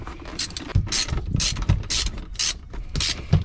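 Rapid ratchet clicking in steady back-and-forth strokes as seat bolts are backed out of an SC300/SC400, close and crisp, about seven pulls in three seconds.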